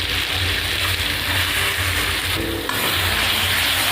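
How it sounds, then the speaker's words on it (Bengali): Ground leaf paste stirred and fried in a wok, a continuous dense sizzle with soft scraping from the stirring, heard alone at close range. "এবার এটাকে নাড়িয়ে শুকিয়ে নেব। এভাবে নাড়িয়ে আমি বাটাটাকে একদম শুকিয়ে নেব।"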